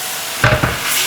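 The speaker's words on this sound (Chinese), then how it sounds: "继续开大火快速翻炒" French beans and eggs stir-fried over high heat in a wok give a brief sizzle with a couple of quick scraping stirs, close and alone.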